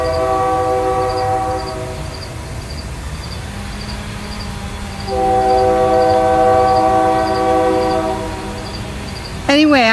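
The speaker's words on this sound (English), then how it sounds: "There are some things that you just can't videotape over, and trains are one of them." A train passes close by, its horn sounding in long sustained blasts with a steady rumble and clatter of wagons underneath, and crickets chirp faintly in the background.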